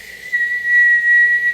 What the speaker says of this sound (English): Whistling out, whistling in,